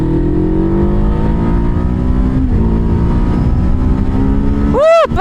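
A Kawasaki Z7 hybrid motorcycle runs in engine mode in first gear, its steady engine drone loud and close with rising harmonics throughout, ending in a quick sweeping rev near the end.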